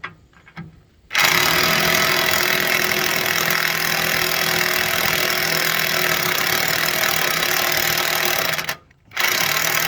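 Impact wrench with a 1 1/8 socket on rusted, long-frozen mounting bolts of a John Deere 48 loader on a 1973 JD 1020 tractor, a loud continuous hammering run of about eight seconds that stops briefly near the end.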